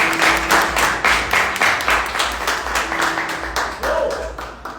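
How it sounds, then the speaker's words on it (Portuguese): Church congregation clapping in rhythm, a steady rapid patter of many hands filling the hall, with a voice briefly audible over the applause. "Aplauda Jesus mais uma vez."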